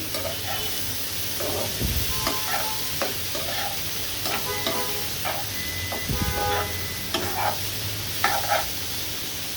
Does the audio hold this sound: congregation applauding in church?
no